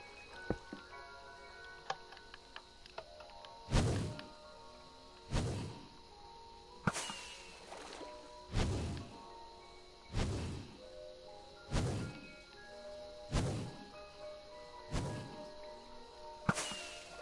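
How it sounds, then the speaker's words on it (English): Minecraft fireworks bursting in a game, a steady series of about ten sharp cracks roughly every one to two seconds, each decaying into a brief crackling tail, with faint clicks between them. "Dude, that's so cool, fireworks!"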